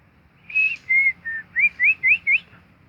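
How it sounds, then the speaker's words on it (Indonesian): Female lovebird whistling call outdoors near a breeding aviary, a series of seven clear, rising and falling whistled notes in quick succession, close and distinct over faint background noise. "Tetap kita pandu dengan suara siulan betina"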